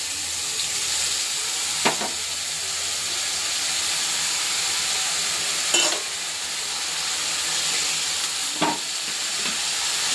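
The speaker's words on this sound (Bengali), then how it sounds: "তো ভালো করে এখন মশলাটা কষিয়ে নেব।" Salt, turmeric, green chilli, cumin and ginger fry in a pan with a continuous close hiss and sizzle, broken by three sharp stirring scrapes spaced a few seconds apart, with no voices.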